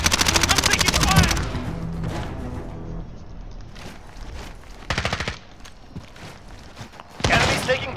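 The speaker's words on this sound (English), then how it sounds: "I'm taking fire!" Video game gunfire rattles in rapid automatic bursts, loud and close, in several separate volleys with quieter gaps between them.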